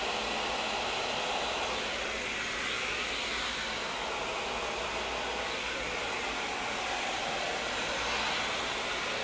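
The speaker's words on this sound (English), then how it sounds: "And what's the setting on the dryer? So I am medium heat, medium wind." A hair dryer runs continuously on medium heat and medium airflow while drying curly hair, a loud, steady whooshing hiss that stays close and constant throughout.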